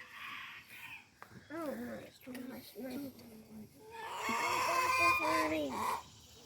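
Backyard chickens clucking and crowing nearby, a run of rising calls followed by a louder, busier burst of squawks, with some speech in the background.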